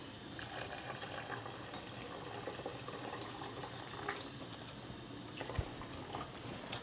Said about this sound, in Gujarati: હવે પાણી નાખી દઈએ.